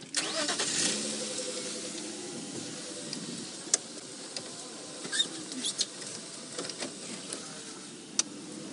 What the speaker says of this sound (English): What I'm going to do is I'm going to jump in front of Taxon so Taxon can reverse